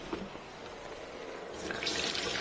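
Water running from a tap into a pot for corn porridge in a kitchen, a steady close splashing stream that grows slightly louder and brighter toward the end.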